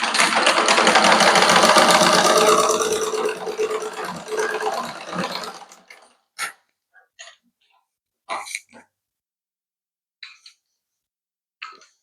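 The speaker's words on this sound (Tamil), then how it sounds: "இந்த தையலுக்கு மேலேயே இன்னொரு தையல் போட்டுருங்க." A sewing machine stitching a blouse seam runs in a fast, steady mechanical chatter for about five seconds, then stops, leaving scattered quiet clicks and handling taps of the fabric.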